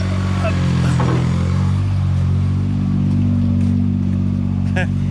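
Tractor engine laboring steadily to tow a Ford Model A on a trailer, a loud continuous low drone throughout, with people talking over it.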